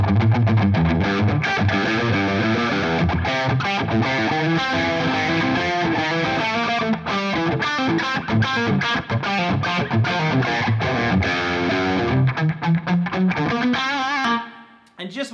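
Electric guitar played continuously with a washy, reverberant tone, fast picked notes and chords ringing out, then fading into a decaying tail at the end.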